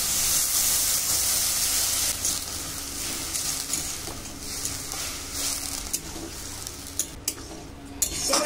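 Water poured into simmering potato payesh with bay leaf and raisins in a pan, a loud hissing rush at first that settles into steady sizzling and bubbling with occasional utensil knocks.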